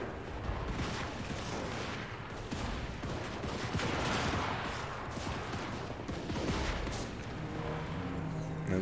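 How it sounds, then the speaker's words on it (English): Dwarven gun lines in a strategy game fire in a sustained fusillade of overlapping cracks and booming volleys, a dense, continuous battle din that rises and falls in intensity for nearly nine seconds. "Dwarven gun lines opening fire."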